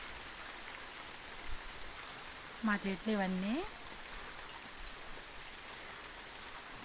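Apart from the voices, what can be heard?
rain falling in a residential colony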